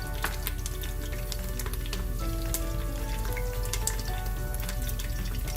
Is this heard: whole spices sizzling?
yes